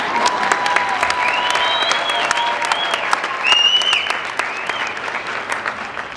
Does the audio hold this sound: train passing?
no